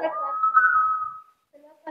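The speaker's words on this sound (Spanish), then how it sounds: "Hemos inventado un sistema como cultura aborigen de botella silbato." A water whistle bottle in the aboriginal style, air pushed out by falling water, gives a steady breathy whistle that holds and slowly fades over about a second, then goes quiet before a voice starts.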